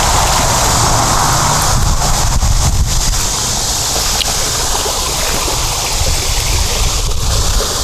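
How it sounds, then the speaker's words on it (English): A five-stack cascading waterfall in a backyard spills water steadily, giving a loud, close, unbroken rushing wash that carries on evenly with no voices. "Just a beautiful water feature."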